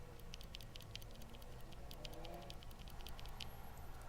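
Typing on a mechanical keyboard with Zealio V1 switches, a quick run of light, soft key clicks in an irregular rhythm over a low background hum, faint and close.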